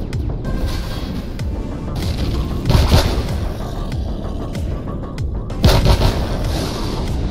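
Tank cannon fire in the Empyrion video game: two heavy booming shots a few seconds apart that stand out over a constant low rumble of battle noise.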